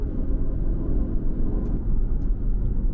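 An Aston Martin Vantage F1 Edition accelerates in fourth gear from about 1500 rpm at roughly 80 km/h, a deep, muffled low engine rumble heard from inside the quiet cabin, steady and unbroken.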